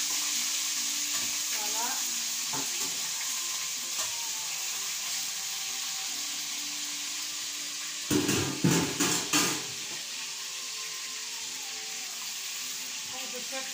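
Salted fish sautéed in a pan with shrimp gives a steady, even sizzle of frying, with a short burst of clattering utensil knocks partway through and a voice speaking briefly over the cooking.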